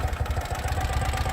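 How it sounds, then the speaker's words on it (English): A 2018 Ural Retro sidecar motorcycle with a 749cc engine runs close by, its low, steady, pulsing throb holding even with a faint mechanical clatter over the top, and no one speaks. "I'll waste no time firing it up, let you hear that 749cc engine run"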